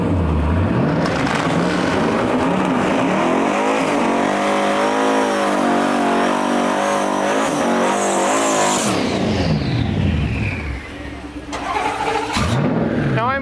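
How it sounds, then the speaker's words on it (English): Ford Mustang GT and Dodge Dart Swinger in a manual-transmission no-prep drag race, engines roaring loud and close for about ten seconds with rising revs, a brief dip, then another car revving up; voices mixed in. "up next here in the man pedal class, we got a Ford Mustang GT pulling up, and I believe it's a Dodge Dart Swinger"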